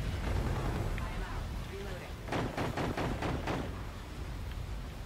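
Artillery strike explosions in a video game, a quick series of about five heavy booms landing in rhythm over roughly a second and a half, heard above steady rumbling background noise.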